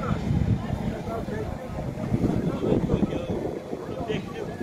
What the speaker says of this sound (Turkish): rüzgarlı bir hava.